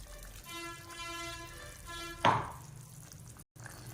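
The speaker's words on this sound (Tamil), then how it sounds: "நான் வந்து இதில் அரைச்சி வச்சுருக்க பேஸ்ட்டை வந்து ஊற்றிக்கிறேன்" Thick ground paste poured into a pan of cauliflower gravy with capsicum. Soft background noise and a faint tonal hum lead into a single wet plop, which fades into a brief sizzle.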